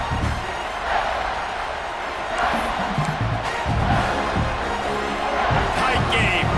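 Stadium crowd roaring and cheering during a tight fourth quarter of a Michigan State vs USC game in College Football 26, a loud sustained wash of noise with swelling peaks.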